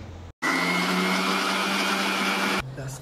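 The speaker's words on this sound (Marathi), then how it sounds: "निखिलाने पुन्हा मिक्सर लावून घेतलं" A mixer grinder whirs through roasted onion and tomato with added water, a loud, steady, close motor drone that starts abruptly and cuts off just as suddenly after about two seconds.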